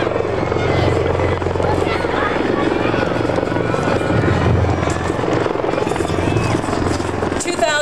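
A helicopter arriving to land on a field at the 2009 Memorial Cup in Rimouski gives a steady, heavy rotor thrum and engine roar, loud and close, with voices faintly underneath.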